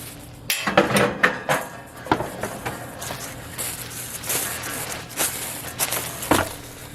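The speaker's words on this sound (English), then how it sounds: "So these are big cast iron grates." Heavy cast iron grill grates are set onto a Weber Genesis II E-410 propane grill, giving a string of loud metallic clanks and knocks close by, followed by lighter scraping and clinks.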